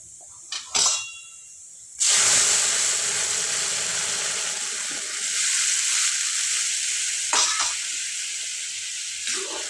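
Dal poured onto garlic and coriander fried golden brown, a sudden loud sizzle and hiss that settles into steady frying, with brief clinks of a spoon against the pot.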